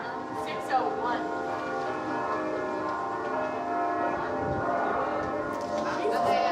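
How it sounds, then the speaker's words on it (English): St. Mary's church bells ring at six o'clock as a steady, continuous peal of overlapping tones, moderately loud and sustained throughout, with faint background activity. "Let's everyone take a moment to reflect as the St. Mary's bells ring"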